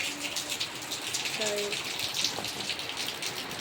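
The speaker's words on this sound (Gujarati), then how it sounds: "વરસાદ છે મિત્રો" Rain falls steadily in a soft wash of patter, with a voice briefly speaking over it partway through.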